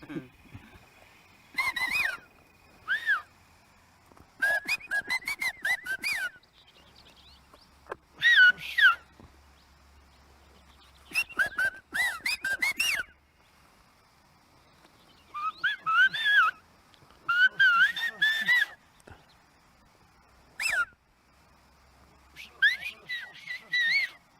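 Clear, high whistled Chinantec speech from Chiapán, Mexico, in short bursts separated by pauses, melodic and speech-like, with faint background noise between them.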